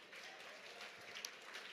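An audience at a trade conference claps for Dr. Ian: a faint, dense patter of many hands that sounds distant and steady, with a few sharper claps near the end.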